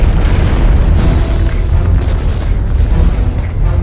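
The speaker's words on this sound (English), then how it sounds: "An enormous explosion rocks the T2 laboratories in Jacksonville" A massive chemical plant explosion at T2 Laboratories in Jacksonville, heard as a loud, sustained deep rumbling roar that fills the whole stretch without breaks.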